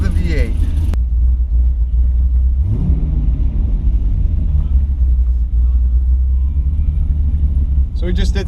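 A BMW V8 in a car bought back wrecked from insurance catches and settles into a loud, deep, steady idle rumble heard from close by. A voice briefly speaks near the end.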